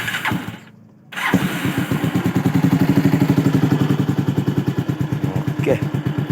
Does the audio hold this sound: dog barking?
no